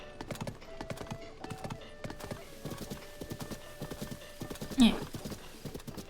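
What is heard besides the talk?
horse galloping, from the video game Zelda: Tears of the Kingdom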